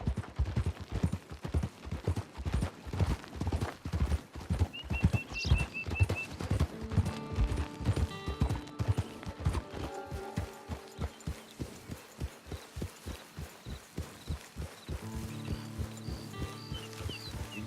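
Horse hooves clip-clop steadily in Red Dead Redemption 2, a fast, rhythmic gait running the whole way under a swelling musical score, with a faint whinny early on.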